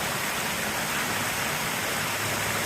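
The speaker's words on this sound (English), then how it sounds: "That is a cool waterfall." A waterfall along the Foothills Trail roars as a dense, steady broadband rush of falling water, close and loud with no talking over it.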